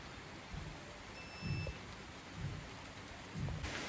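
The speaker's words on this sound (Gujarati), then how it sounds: "ફાઇનલી મિત્રો છે ને વરસાદ આવી ગયો છે" Steady rain falls outdoors with low rumbles of thunder rolling in at intervals, a soft continuous hiss underneath and a few faint high tones; no one speaks.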